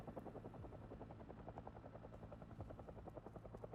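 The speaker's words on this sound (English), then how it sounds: "The next helicopter." A helicopter passes overhead in the Project Zomboid game, Build 42, its rotor beating in a steady, rhythmic chop that stays fairly close and loud throughout, with no one talking.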